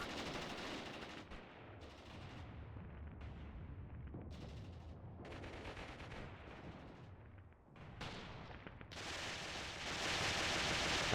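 A PPSh submachine gun fires in the Mius Front war game: several bursts of rapid automatic fire with short pauses between them, dense and harsh, and the last burst grows louder. No one speaks.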